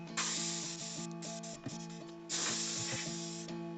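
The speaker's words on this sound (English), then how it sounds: "take your compressed air and blow that out" Compressed air blasting dust out of an opened PlayStation 1 console, two loud hissing sprays in quick bursts with brief mechanical clicks between them, close and alone.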